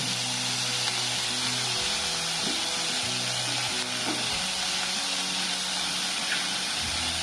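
Hot oil sizzles and crackles steadily as asafoetida and onion temper in a pan for rava upma, a loud continuous frying hiss with low background hum and occasional stirring clinks.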